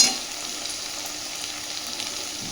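Mustard and green chilli paste frying in a pan, a steady close sizzle with soft stirring beneath it, constant in level throughout with no voices.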